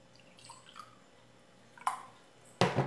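Water splashes from an American-style glass into bread dough in a bowl, with soft, faint trickling followed by two sharper, louder pouring splashes close by near the end.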